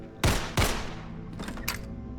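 Two loud, close shotgun blasts a fraction of a second apart in the zombie game Dead Don't Die, followed by quieter rustling and fainter clatter.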